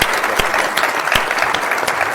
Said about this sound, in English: I will ask you for a round of applause to our panelists